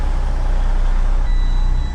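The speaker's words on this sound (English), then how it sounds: "I'm gonna bring this truck down." A farm truck backs up with its reversing alarm beeping steadily over a loud, continuous engine rumble, close by, no talk.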